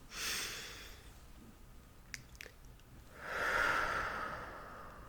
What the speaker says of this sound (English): So we're going to take a deep breath.